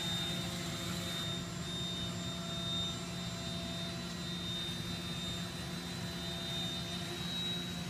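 An Okada GM544 machining center spindle spins at high speed, a smooth, steady whine with a low mechanical hum underneath, even and unbroken throughout with no voices.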